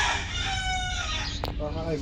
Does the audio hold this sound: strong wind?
no